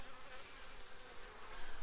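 A hive's worth of honeybees hums continuously while a colony is being split with a queen excluder, the steady buzzing fairly close and rising slightly toward the end.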